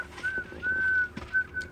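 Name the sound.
person whistling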